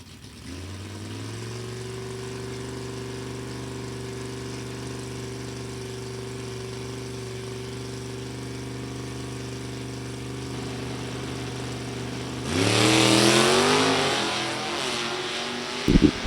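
At a drag strip, an '84 Buick Regal with a 252 V6 and a '67 Chevy II with a 327 small block idle and rumble steadily, then launch with a loud rising roar near the end.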